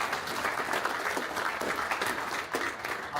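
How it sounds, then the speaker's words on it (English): A dense, steady wash of audience applause fills a startup pitch night as many hands clap together at close range, loud and unbroken throughout with no voices on top. "give him another round of applause"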